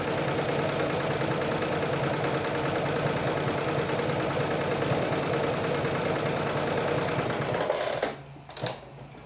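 A sewing machine stitches a quarter-inch seam on cardigan skirt pieces, back stitching at the start and end: a loud, steady, close mechanical whirr running continuously, then stopping abruptly near the end with a couple of brief clunks.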